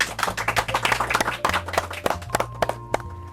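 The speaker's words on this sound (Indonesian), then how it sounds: "Yuk kita berikan tepuk tangan paling meriah untuk tamu spesial kita pada hari ini." Studio audience clapping for special guests on a pet-themed talk show, a dense patter of close hand claps with music playing underneath, lasting a few seconds.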